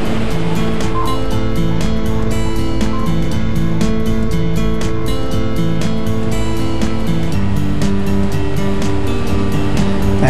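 Surf rolls and breaks steadily on a Namibian beach where anglers fish from the shore, a loud, continuous wash with no talk over it.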